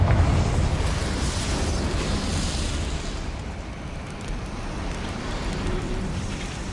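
A Confringo fire spell explosion in the video game Hogwarts Legacy, a dense, roaring crackling blast that fills the whole clip and slowly thins into a steady rumble and hiss, with no talking.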